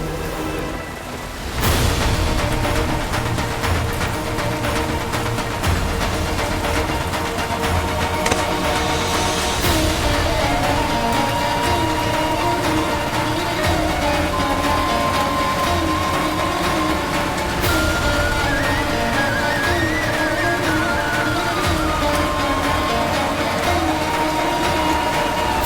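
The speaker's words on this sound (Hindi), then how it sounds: "बारिश तो बहुत भयानक है" Heavy rain pours down in a steady, dense roar during stormy weather, loud and continuous with no voices, and a faint tonal background layer sits underneath.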